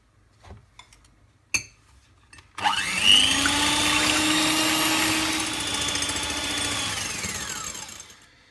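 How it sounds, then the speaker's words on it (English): An electric mixer whips egg whites on medium-high for meringue. A couple of sharp knocks come first, then the beaters whir up to a loud, steady, slightly pitch-falling drone for about six seconds before winding down. "Now I'm going to start whipping the egg whites on medium-high"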